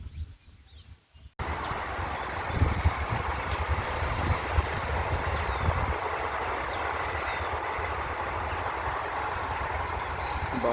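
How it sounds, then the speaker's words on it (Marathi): A long train rolls past near a river, a loud continuous rumble and clatter of wagons that starts abruptly after a short quiet moment and carries on steadily, with faint bird calls above it. "किती लंबी ट्रेन आहे आत्ता खतम झाली"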